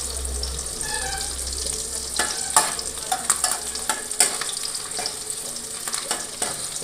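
Onions fry in a pan for a prawn and bottle gourd curry, giving a continuous sizzle with a run of scraping stirs and clinks that grows busier partway through.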